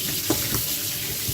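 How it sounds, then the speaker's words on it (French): Running tap water over fresh turmeric root at a kitchen sink, a steady close hiss of flowing water with small splashes and no speech. "je vais commencer par laver mon curcuma, sachant qu'il est frais, donc je vais le laver, bien nettoyer"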